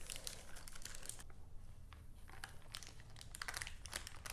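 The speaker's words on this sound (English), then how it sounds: "Now we'll carefully peel this outer layer of parchment paper away." Parchment paper is peeled away from a no-bake cheesecake, giving soft crinkling and tearing rustles in short bursts, close and fairly quiet.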